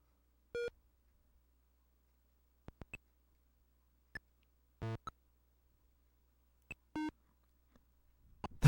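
Sparse electronic beeps and bleeps from an Atari 2600 video game, short tonal blips scattered irregularly with quiet gaps between, some doubled, fairly soft and clear with no talking.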